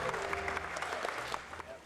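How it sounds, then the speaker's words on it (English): Cast and crew applauding the child actors on a 2003 film set, a short burst of scattered clapping heard at moderate distance with voices mixed in. "Applause for Frankie."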